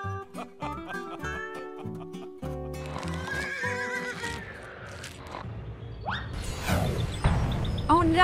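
Horses whinny and neigh repeatedly, loud and close, with clattering hoofbeats building toward the end amid a busy, agitated soundscape.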